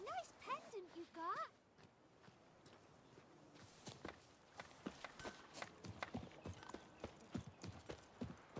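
Hooves of Roach, Geralt's horse in The Witcher 3, clip-clopping in an irregular walking rhythm, fairly close and soft, after a brief voice at the start.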